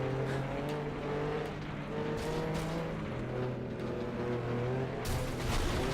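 Steady, loud engine roar from several race cars in the video game Flatout 2, pitch rising and falling through shifts, with occasional skids and impacts punctuating the constant drone.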